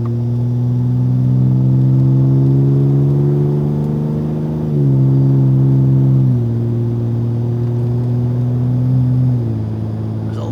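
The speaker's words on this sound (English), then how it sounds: "let's see what happens now when we give it a bit of gas" A work truck that is already developing faults accelerates slightly uphill, its loud, close engine droning steadily and dropping in pitch at several distinct gear shifts.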